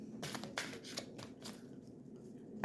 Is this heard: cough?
no